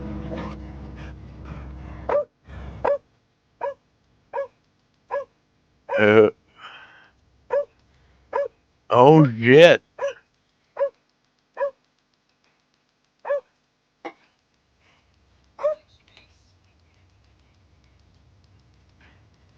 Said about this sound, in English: the golden retriever started barking at it